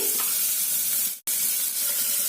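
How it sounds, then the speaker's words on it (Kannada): Onion frying in a pan for bottle gourd curry: a close, steady hissing sizzle filling the clip, broken by one very brief dropout near the middle, with no talk. "ಆನಂತರ ಈ ಕರಿಬೇವು ಎಲ್ಲವನ್ನೂ ಹಾಕೊಂಡು ಚೆನ್ನಾಗಿ ಫ್ರೈ ಮಾಡ್ಕೊಳ್ಳಿ"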